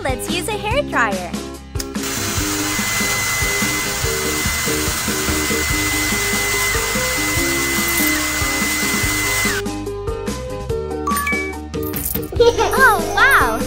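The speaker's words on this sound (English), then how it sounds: "Now let's use a hairdryer." A steady, bright whooshing blow from a hair dryer runs for several seconds in a baby panda pet-care game, with chimes and short electronic effects at the start and end.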